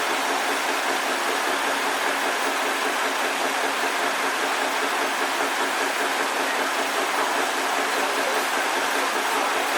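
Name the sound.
vintage tractor engine running at show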